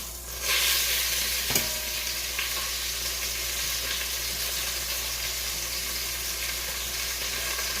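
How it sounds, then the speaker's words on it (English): Oxtails browning in a hot frying pan, a steady close sizzle that swells as the meat goes in, with a brief clink early on, then holds an even crackling hiss. "we just want to grab these fresh out of here and you want to brown them"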